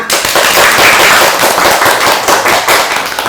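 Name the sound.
audience applause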